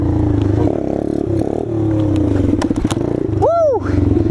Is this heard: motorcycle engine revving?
yes